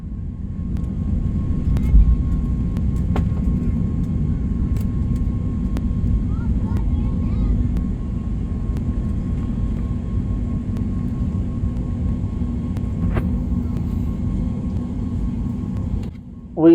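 A passenger jet roars steadily and loudly from inside the cabin during its takeoff run at Stockholm Arlanda, a dense low rumble that holds throughout.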